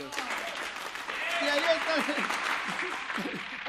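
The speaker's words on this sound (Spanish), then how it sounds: "Un aplauso para ellos." A TV show studio audience claps for guests while someone talks over the applause, which swells in the middle and stays moderately loud.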